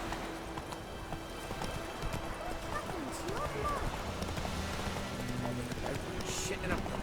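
A horse gallops in the video game The Witcher 3: Wild Hunt, its rapid rhythmic hoofbeats running steadily at moderate volume beneath ambient game sound, with a voice talking over it.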